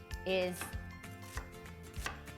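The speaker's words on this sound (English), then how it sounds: "So I'll start with the chopping of the veggie" A kitchen knife chops onion, celery and carrots on a cutting board for soup, with a steady series of close, crisp thuds and a brief clatter near the start. A word is spoken faintly in between.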